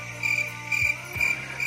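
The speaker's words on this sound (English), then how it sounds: "Crickets." Crickets chirp in four short, evenly spaced bursts, a thin high trill repeating steadily against a quiet low hum.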